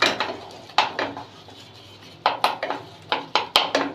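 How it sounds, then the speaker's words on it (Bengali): A metal spatula scrapes and clanks against a cooking pot while boiled mangoes are mashed, a series of sharp close knocks and scrapes in irregular bursts with short pauses between. "এখানে খুন্তির সাহায্যে আমগুলি মেশ করে দিব।"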